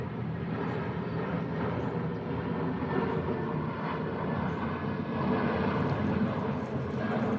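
An airplane passes overhead, a steady broad engine drone that holds for several seconds and swells slightly toward the end, with no talk over it.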